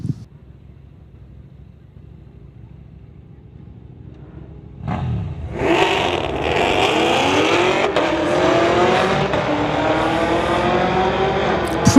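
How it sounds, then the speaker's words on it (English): Camaro and Dodge drag racing down a street-legal strip, starting from a low idle rumble before both engines roar into a loud sustained wide-open acceleration run that carries to the end. "We have a Camaro in the TCS lane going against the Dodge in the Lordco lane."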